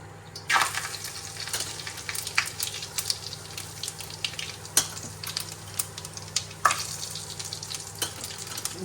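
Cumin seeds hiss and sizzle in hot oil for pav bhaji, a steady frying crackle with sharp spattering pops and occasional metallic clinks of a spoon against the pan.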